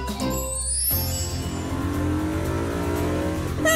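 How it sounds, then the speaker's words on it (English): Cartoon black race car racing: an engine revs up and drones with a rising, accelerating pitch, loud and close, with a brief high whine at the start. "Pit is racing his black car."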